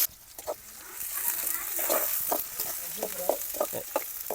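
Onions sizzle and crackle in hot oil, with stirring scrapes and a few short bursts of nearby activity over a steady hiss.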